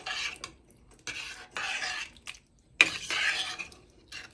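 Spoon stirring ginger potato curry in a pot as it comes to the boil, with bursts of scraping and clinking against the pot separated by brief pauses, close and moderately loud.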